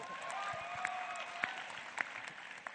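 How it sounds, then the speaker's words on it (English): An audience at a school event gives a round of applause, a soft, even patter of many hands heard from a distance, with a few sharper claps standing out and no one speaking over it. "let's give him a round of applause for that"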